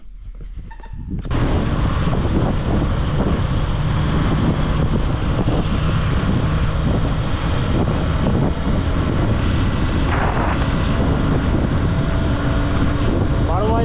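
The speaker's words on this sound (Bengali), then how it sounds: "বাইকটা আবার স্টার্ট দিই, আবার সামনে এগিয়ে যাই।" A motorcycle rides along a forest road in the 12 Mile forest near Jhilimili, engine rumbling under heavy, constant wind buffeting the microphone; loud and close throughout after a brief quieter start.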